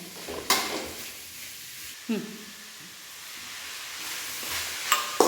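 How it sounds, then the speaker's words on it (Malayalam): Sliced onions with salt sauté in a pan for a Kerala chicken roast, a soft sizzle punctuated by a few sharp scrapes and clinks of a spoon stirring against the pan. "ഉള്ളിയിൽ കുറച്ച് ഉപ്പ് ചേർക്കുന്നുണ്ട് ഉള്ളി പെട്ടെന്നൊന്ന് വഴണ്ടി കിട്ടാൻ വേണ്ടിയിട്ടാണ്"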